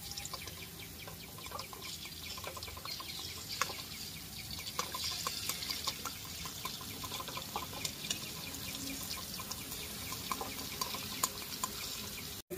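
Drops of boondi batter falling through a small perforated ladle into hot oil for sweet palm boondi, a soft, continuous crackling sizzle with scattered light pops, fairly quiet and steady throughout.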